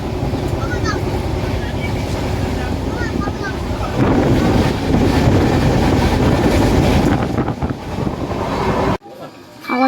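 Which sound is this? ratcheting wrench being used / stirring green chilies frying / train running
train running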